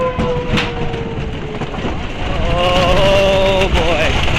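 Timber Wolf wooden roller coaster at Worlds of Fun in Kansas City, heard from the back row: a loud, continuous rattling roar with squealing wheel tones that builds and grows harsher in the second half.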